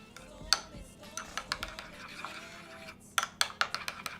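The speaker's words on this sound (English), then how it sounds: "You just mix it in" A utensil stirs buffalo chicken salad ingredients in a bowl with sharp clinks and scraping taps. The strokes are irregular at first, then come in a quicker rhythmic run near the end, close and moderately loud.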